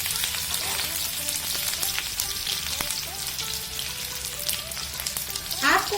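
Ginger paste sizzles in hot oil for a vegetable spring roll filling, a steady crackling fry with sharp pops and a brief stir or spatter near the end.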